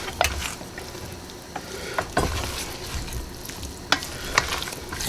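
Peas and onions being stirred in a pan with cream, a spoon scraping and clacking against the pan in a few scattered strokes over a low, steady background, no voices.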